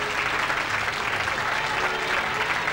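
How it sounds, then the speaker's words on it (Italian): Dense, loud applause from the audience at a local beauty pageant, a thick continuous patter of many hands clapping close by for a few seconds. "Facciamo un applauso a queste due ragazze."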